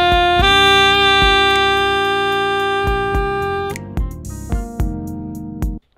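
Smooth jazz saxophone phrase played plainly, without small expressive touches: steady sustained notes with a few note changes, loud and close, the last tones ending abruptly, no speech.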